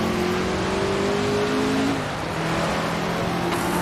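Vintage prototype race cars in a video game launch from the start at the Lago Maggiore circuit, a loud sustained engine drone with rising revs and a brief pitch shift as the pack pulls away.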